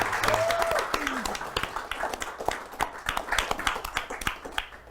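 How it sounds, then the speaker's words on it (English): Applause from a crowd at a comic book publishing summit, loud at first then thinning into scattered claps, with a voice briefly heard at the start. "Let's have a big round of applause for Mr. Matt Kent."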